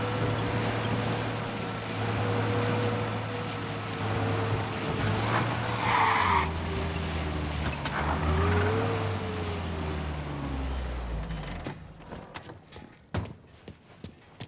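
In the Mafia video game, a car slides and skids, with a droning engine and long tire squeals over about eleven seconds, followed by scattered sharp knocks and thuds.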